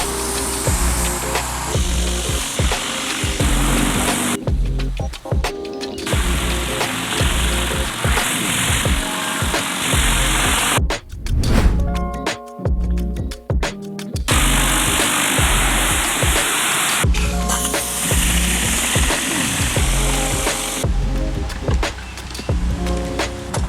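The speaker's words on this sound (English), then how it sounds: "I'm gonna start my rinse by rinsing the bricks on the house first and letting it push that water down" A pressure washer rinses brick walls and an aggregate concrete pool deck outdoors, a loud steady spraying hiss that cuts off and restarts several times, with mechanical hum from the machine during the breaks.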